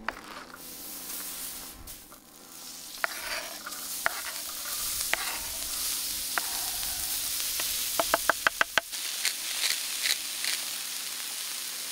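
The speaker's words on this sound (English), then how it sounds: "I'm gonna go push all of the spam to the side and expose the middle grill" Spam frying on a Tembo Tusk Skottle griddle, a steady close sizzle broken by scraping and knocking as a spatula pushes the pieces aside, with a quick burst of metal taps near the end.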